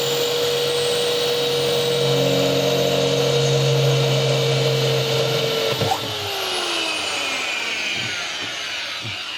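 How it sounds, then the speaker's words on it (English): A power drill with a long, slender bit whines steadily at high speed during a camper van build, then winds down, followed by a few light knocks and clicks. "Just make sure I'm not drilling into a hole that's there."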